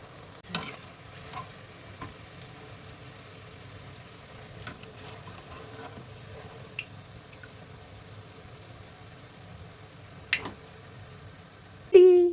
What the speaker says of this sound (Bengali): এরপর গরম তেলে এরকম লাল লাল করে ভেজে নিলেই রেডি রাঙা আলুর পিঠে